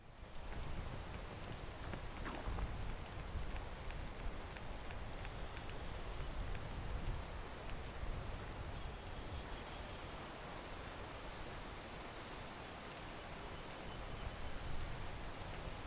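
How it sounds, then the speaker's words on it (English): Steady rain falls outdoors as a soft, even hiss of drops on surfaces, faint and continuous for about sixteen seconds, with no voices. "I should have waited for the rain,"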